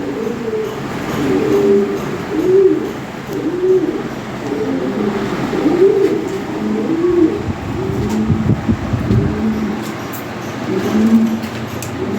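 Fancy pigeons, including a pair of big red Lahoris, coo in low repeated throaty burbles over a steady background rumble, with several birds overlapping close by and no speech.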